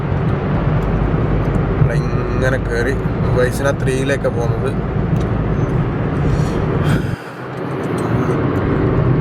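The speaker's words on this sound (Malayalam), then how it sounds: "ഇതൊരു ചെറിയ ടണലാണ് നല്ല രസയിൽ കൂടെ വണ്ടി അടിക്കാം ഒരു പ്രത്യേക സൗണ്ടാണ്" A car drives through a short road tunnel in Dubai, its steady low engine and road rumble running under someone talking, then thinning abruptly near the end.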